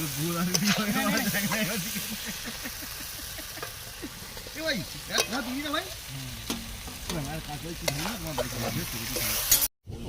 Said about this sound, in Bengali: এবারে আমাদের মাংস কষা চলছে